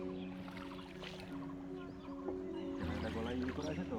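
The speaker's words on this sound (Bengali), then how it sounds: "Or pedal boat." Paddle boat moving on a lake, a low steady churning and hum with faint ambient sounds, people talking nearby over it.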